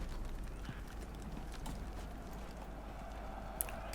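Horse hooves clip-clopping steadily through the 4 seconds in the WWII shooter Enlisted, a moderate continuous trot under low rumbling battle ambience, with a sharp click near the end.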